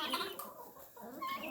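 Hens clucking softly in a mixed flock of chickens and guinea fowl, with short overlapping calls close by over a low background.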